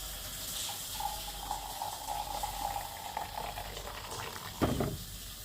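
Water poured onto Amul milk powder in a hotel room cup, a steady low trickle running for several seconds, moderately close, with a brief louder splash near the end.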